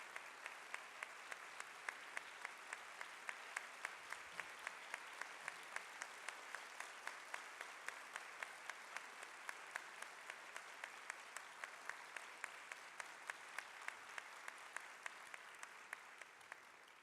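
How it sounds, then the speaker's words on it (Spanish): An audience at a Class of 2012 inauguration ceremony applauds a sponsoring company leader. The dense, sustained clapping is fairly distant and continues evenly for the whole stretch. "Démosle un caluroso aplauso a don Lorenzo."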